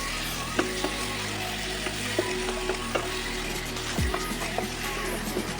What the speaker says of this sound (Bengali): এবার খুব ভালো করে কষিয়ে দেবো।